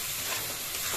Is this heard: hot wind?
no